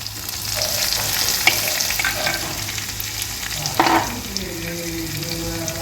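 Garlic and mustard seeds fry in hot oil in a pan for a Kerala-style chundanga curry, giving a steady close sizzle with crackling pops and a brief stirring scrape near the four-second mark.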